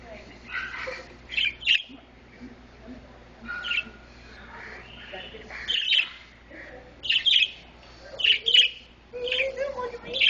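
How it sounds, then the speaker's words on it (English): A pet bird gives short, bright chirps in scattered bursts, some doubled, fairly close, with people talking quietly between the calls. "Pretty bird."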